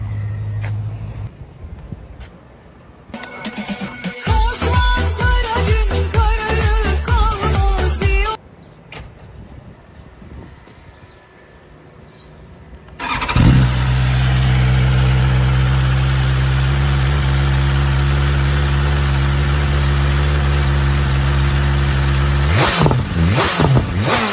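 A BMW S1000RR sport motorcycle with its stock exhaust: an engine is heard in short bursts, then a long, loud, steady high rev held close up for about ten seconds before it drops off at the end.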